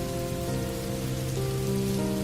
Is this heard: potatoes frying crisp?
no